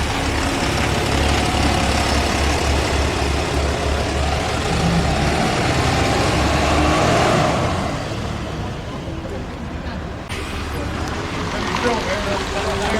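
A large diesel bus engine rumbles steadily up close, then revs and shifts as the rail replacement bus pulls away from Fareham, with rain and traffic noise in the background.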